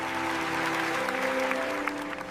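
Brief, moderate applause rises at a palace celebration, layered over sustained background music and holding steady for a couple of seconds.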